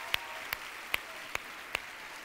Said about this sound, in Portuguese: Dá uma salva de palmas aí para você que pulou